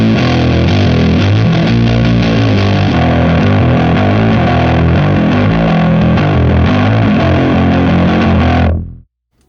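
An electric guitar played through an EarthQuaker Devices Chelsea fuzz pedal set to high gain gives a loud, dense, aggressive fuzz tone that rings for about nine seconds of continuous strummed chords, then cuts off abruptly to silence.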